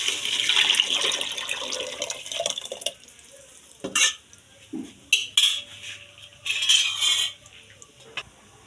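Tamarind water mixed with ground masala is poured into a pan of fish curry: a splashy pour at first, then intermittent clinks, scrapes and knocks of a utensil against the pan, close up.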